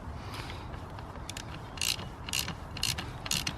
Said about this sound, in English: I'm just doing up this 10mm bolt, and I'll do these 10mm nuts.